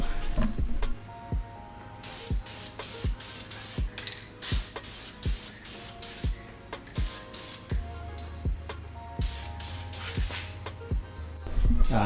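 Aerosol spray paint going onto Honda RSX Type R Brembo brake calipers for a final coat: several hissing bursts with clicks and rattles between them, close and fairly loud, no talking.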